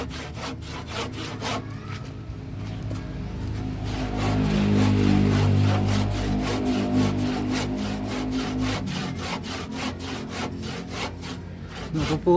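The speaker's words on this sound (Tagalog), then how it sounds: "Ito naman mga ka-agri, lagari naman." A rusty handsaw cuts through wood, its steady back-and-forth strokes rasping loud and close in a regular rhythm that runs the whole time, with no voices.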